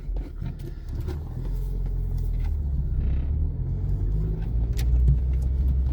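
Car on a test drive after an ABS repair, a steady low engine and road rumble from inside the cabin that swells slightly as it picks up speed, with no talking.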